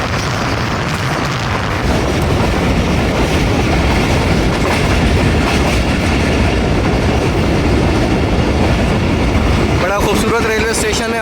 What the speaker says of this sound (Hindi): तरक्की रेलवे स्टेशन से पास थ्रू हो रही है 48 डाउन